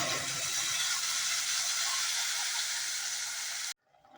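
Spinach paste for palak paneer goes into hot oil with cumin and dried red chillies, giving a loud, steady hiss of sizzling that cuts off abruptly near the end.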